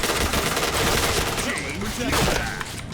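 Gunfire in a video game, with rapid, dense shots rattling continuously and close, mixed with in-game effects and a talking voice underneath.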